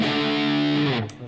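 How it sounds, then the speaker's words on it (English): A distorted electric guitar with extra gain holds a single sustained note for about a second before it dips and fades, loud and close, played alone as in a riff. "make sure you got some distortion on it"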